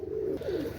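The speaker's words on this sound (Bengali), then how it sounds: "সুপার কোয়ালিটির মধ্যে পাকিস্তানি সাবদার রয়্যাল টেডি কবুতর" A Pakistani Sabdar Royal Teddy pigeon gives a short, soft cooing phrase, two gentle rolling coos close by and alone.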